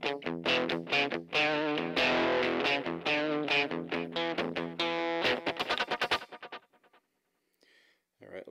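An electric guitar through a fuzz pedal with delay switched on plays distorted, buzzy chords and notes in quick succession, then trails off into fading repeats and near silence.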